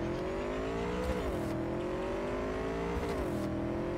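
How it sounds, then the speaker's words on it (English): A car driven in Cyberpunk 2077 gives a steady, loud engine drone with a few gear-shift dips and rises in pitch, running continuously without talk. "Just jump on a vehicle and head west"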